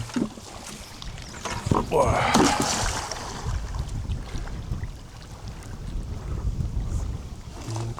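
Wind gusts buffet the microphone on a small boat out on the water near reeds while nitrogen fertilizer is being applied, a steady rough rumble rising to a louder swell around two seconds and then settling.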